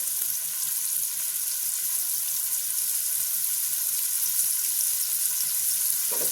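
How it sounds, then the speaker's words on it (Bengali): Bitter gourd fries with salt in a pan, giving a loud, steady sizzle broken by a regular rhythm of stirring scrapes throughout. "এবার এটাকে আমি নুন দিয়ে ভালোভাবে এই উচ্ছেটাকে ভেজে নেব।"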